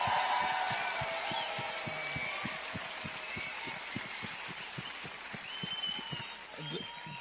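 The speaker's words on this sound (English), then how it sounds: "Can we quickly give another round of applause for Judith?" A rally audience gives another round of applause for Judith, a steady crowd clapping that holds at even volume throughout, with broadband wash and some voices mixed in.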